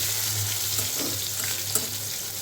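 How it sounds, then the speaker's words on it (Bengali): Pointed gourd frying in hot oil, giving a steady close sizzle with a faint crackle throughout, alone with no talk. "পটলগুলো বেশি ভাজবো না, কম কম করেই ভাজবো, রঙটা একটু পাল্টে এলেই নামিয়ে নেব।"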